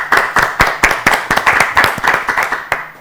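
An audience claps for a contestant at a children's Easter holiday competition show, a steady run of sharp, close, evenly spaced claps sounding without any talk.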